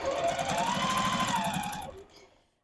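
A sewing machine stitches quilt pieces in a steady, fast mechanical chatter that runs close and clear, then winds down and stops near the end.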